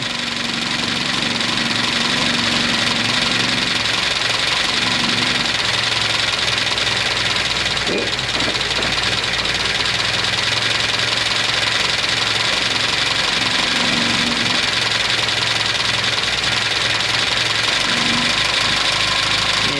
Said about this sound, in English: And now we're going to adjust the idle, which is just a flathead screwdriver down in here.